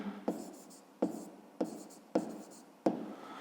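Pen or pencil strokes on paper while a maths answer is written out by hand, five sharp scratchy bursts each trailing off, close and clear with no talking.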